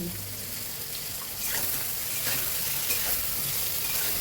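Ground spice paste sizzles and frying continues with eggplant as it is stirred in a hot pan, with a steady close crackle that grows louder partway through, alone without talk.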